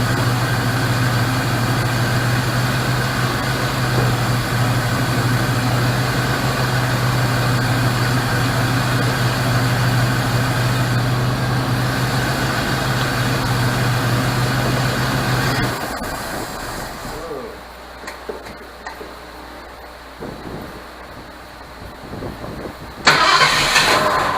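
A Sea-Doo SPX jet ski's 717 two-stroke engine runs loud and close with a steady droning idle for about sixteen seconds, then cuts out, leaving quieter clatter and a final short burst.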